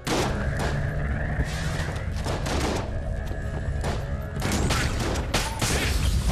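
Doom Gun firing in Enter the Gungeon, a rapid barrage of loud booming gunshots layered over game music, dense and continuous with a brief lull before a second heavy burst.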